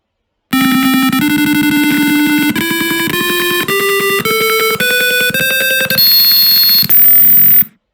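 A piezo buzzer driven by a microcontroller board beeps out a stepped series of shrill electronic tones, each held briefly and rising in pitch, loud and alone.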